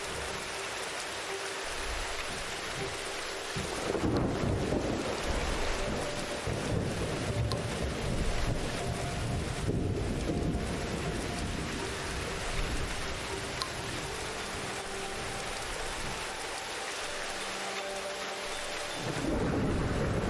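A storm with wind and thunder in the video game Diluvian Winds, heavy rain hissing throughout while deep rolling thunder swells and fades in several long waves.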